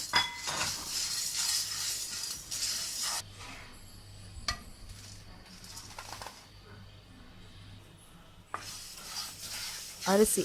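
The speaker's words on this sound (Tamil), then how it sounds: "ஒவ்வொன்றுத்தையும் நம்ம ட்ரை பேனில் போட்டு நல்லா வறுத்து எடுத்துக்கிறோம்" Chana dal being dry roasted in a dry pan for homemade kulambu chilli powder, with scraping, stirring and clinking of utensil on pan in bursts, quieter stretches between, and faint birdsong in the background.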